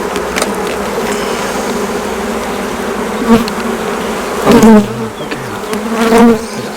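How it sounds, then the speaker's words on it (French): Steady insect buzzing fills the air, a dense hum of many honeybees at a beehive with a few louder bursts as some fly near. "Il y a un paquet d'abeilles"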